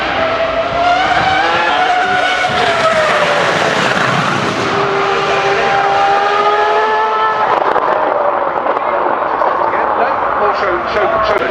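A race car powers up the Goodwood hillclimb at the Festival of Speed 2024, its engine screaming loud and close with rising and falling revs through gear changes, under continuous commentary.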